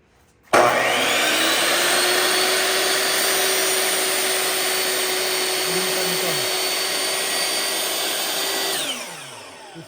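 A power saw makes a first cut through wood for a plant stand: a loud, sustained whine that starts abruptly, holds steady for about eight seconds, then winds down.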